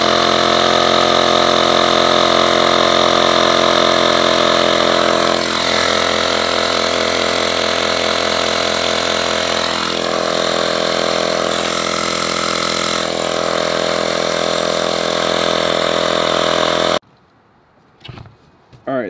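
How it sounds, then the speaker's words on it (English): A Lasfit portable air pump inflating a tire runs with a loud, steady buzzing motor drone and faint pitch wobbles for about seventeen seconds, then cuts off abruptly, leaving near silence and a few small clicks. "we just hit the on button and it should start inflating"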